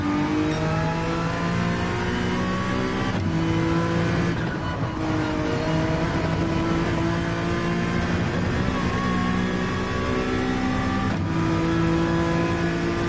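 Race car engine in Gran Turismo 7 at the Nürburgring revs steadily through the gears, a loud continuous droning whine with pitch climbing and dropping at each shift, no voices.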